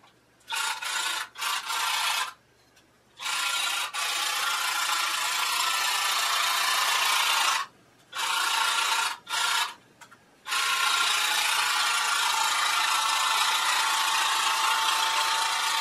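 A Split-Ender Maxi hair trimmer runs on a small section of hair with a loud, close whirring buzz, first in several short bursts, then in a long continuous run broken by brief pauses.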